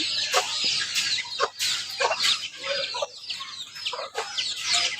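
Farm chickens and chicks clucking and cheeping together in a busy, continuous chorus of overlapping calls, close and fairly loud.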